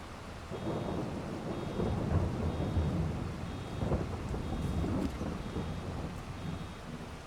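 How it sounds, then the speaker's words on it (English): Steady rain falls with repeated rolling thunder in a Farming Simulator 22 storm, a dense constant wash with low rumbles swelling throughout, and no voices. "More rain."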